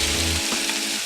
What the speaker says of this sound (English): So now that the oil is hot,